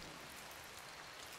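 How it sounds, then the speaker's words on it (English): Steady rain in RimWorld, a dense, even wash of broadband noise with no distinct drops standing out, continuing unbroken and fairly quiet throughout. "He's wet from all the rain."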